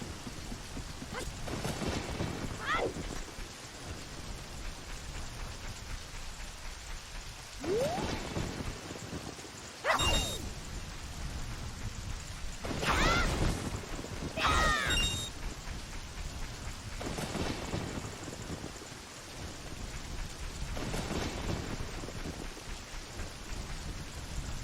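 Rain and thunder sound effects from the video game Zelda: Ocarina of Time: a constant loud hiss of rainfall, broken by several heavy rolling thunder cracks spaced through the storm.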